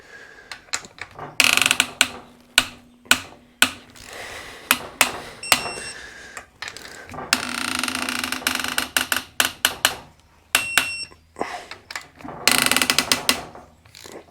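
Ratchet clicking in bursts as head bolts are tightened in a crisscross pattern on a Massimo MSU 700 engine top end rebuild, close and loud, with repeated sharp pawl clicks between pauses and some squeaky rubbing from the washers.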